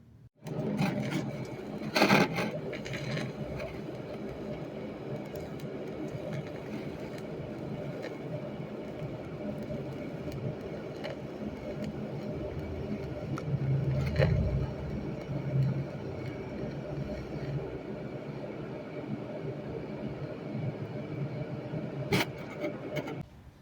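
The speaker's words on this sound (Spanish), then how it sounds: "yo les voy a hacer una pruebita soldando con este equipo" TIG welding a flat-position bead produces a steady, continuous buzzing hiss that holds for over twenty seconds with small surges and crackles. No voices are heard.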